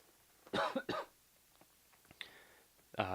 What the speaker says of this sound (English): have a little bit of a cough still